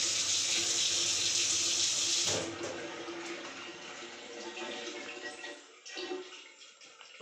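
A tap gushes water at full flow in a house kitchen for a couple of seconds, then is turned lower to a softer trickle and splash.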